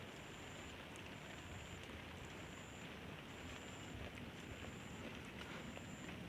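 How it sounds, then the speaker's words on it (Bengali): Steady rain falls across a village, a soft continuous hiss with no breaks, alongside a faint high tone that pulses on and off at regular intervals. "বৃষ্টি শুরু হয়ে গেছে"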